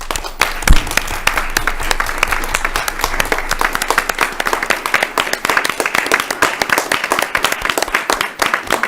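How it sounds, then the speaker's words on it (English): A round of applause at an Oak Park city council meeting: loud, close, sustained clapping from a roomful of people that stays steady and dense for nearly nine seconds without fading. "So a round of applause."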